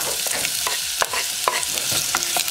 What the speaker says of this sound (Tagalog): hintayin natin uminit at ilagay na ang sibuyas